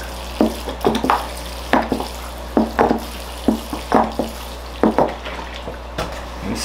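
Water is poured onto freshly repotted bonsai trees, splashing and trickling in a steady rhythm of short bursts roughly every half second, close and fairly loud over a low hum.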